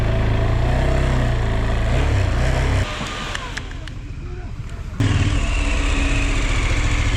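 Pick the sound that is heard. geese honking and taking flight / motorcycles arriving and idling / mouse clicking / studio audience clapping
motorcycles arriving and idling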